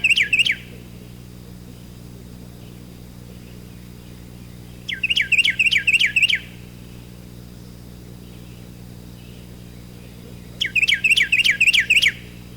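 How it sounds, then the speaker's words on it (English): A Carolina wren, a small reddish-brown bird perched by a fallen log, sings three loud, ringing bursts of rapid repeated phrases, each about one to two seconds long, separated by pauses over a quiet, steady low hum. "It is a Carolina wren"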